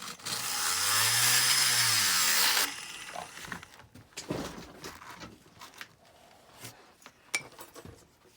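A power saw cutting a 1.25-inch piece of balsa wood, a loud whining cut rising and falling in pitch for over two seconds, followed by quieter knocks, scrapes and handling noises.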